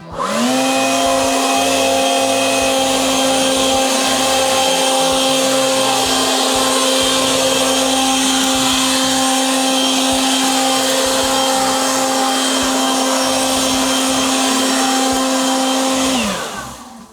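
A Dnipro-M DCB-201 Dual cordless leaf blower, powered by two batteries and running outdoors without turbo mode, gives a loud, steady motor whine with a strong tonal hum that holds for about sixteen seconds, then winds down abruptly at the end.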